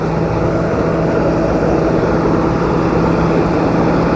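A tractor engine runs during a rice harvest, a loud, close, unbroken droning rumble with a steady hum and no pauses.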